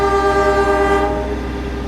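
Horn of a Kaligung passenger train at a station, a loud, steady tonal blast heard up close that fades slightly toward the end.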